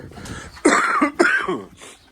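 A person coughs a few times in short, harsh bursts close up, with a throat-clearing quality.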